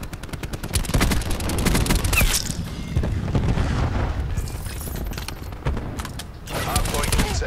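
Gunfire and explosions in the Nuketown map of Call of Duty Black Ops 4: loud, dense bursts of shots and booms in close succession, continuous through the stretch with rapid crackling fire at the start.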